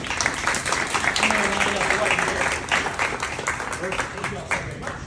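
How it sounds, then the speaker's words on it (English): An audience at an installation entertainment event gives a round of applause, dense clapping that holds steady before tapering slightly, with a voice speaking over it. "Everyone give him a big round of applause for joining me."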